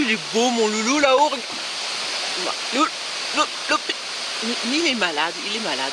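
Nearby waterfall at a bivouac, a steady broadband rush of flowing water heard throughout while someone talks over it.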